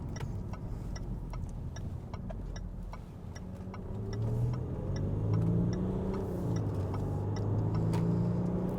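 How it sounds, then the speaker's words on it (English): A 2018 Land Rover Discovery HSE Luxury TD6 turbo diesel gives a deep, low rumble that swells steadily into a revving drone, with light rhythmic ticking over the top and no voices. "the turbo diesel is very unique in the sense that it's got more of like a deep rumble to it"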